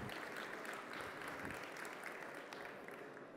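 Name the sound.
audience applause after speaker introduction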